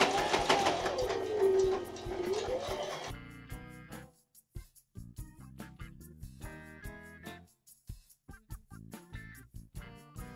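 A sewing machine stitches a box-stitch hem on men's joggers in a series of short, fairly quiet runs and stops, after a noisier opening passage.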